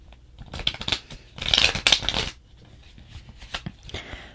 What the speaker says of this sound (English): Alright, I'm going to go ahead and shuffle these out.